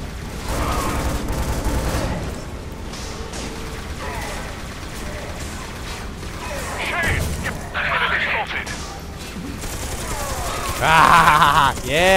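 Turret fire in the shooter Scourge Outbreak comes in rapid mechanical bursts and booms amid battle noise, with people talking over the action and a louder burst near the end.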